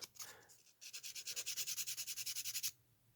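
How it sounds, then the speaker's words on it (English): Hand sanding of a plastic droid part using the rougher side of sandpaper, a quick run of about fifteen rhythmic scraping strokes after a few slower rubs, close and fairly quiet. "We're going to start with the rougher side, just so we can sand it down just a little bit"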